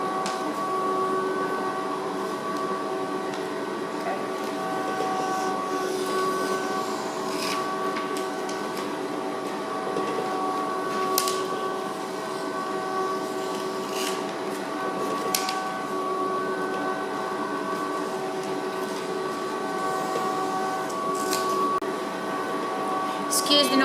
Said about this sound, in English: Excuse the noise in the background, it's my tempering machine which is currently holding chocolate in temper.